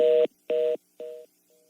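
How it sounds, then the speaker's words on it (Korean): Repeated telephone beeps as a call drops during a Korean broadcast phone-in, three loud steady tones with gaps and a fainter fourth, clean and close with no talk. "전화가 끊겼습니다. 다시 연결해 보도록 하겠습니다."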